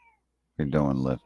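A house cat lets out one loud, close meow of about half a second after a brief silence, with a faint voice just before it.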